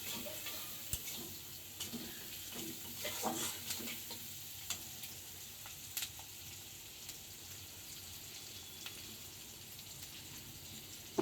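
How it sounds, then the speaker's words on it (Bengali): Potatoes frying with onions in a home pan give a quiet, steady sizzle throughout, with soft occasional clicks and scrapes from stirring. "এই পেঁয়াজের সাথে আমি আলুগুলো ভেজে নেব।"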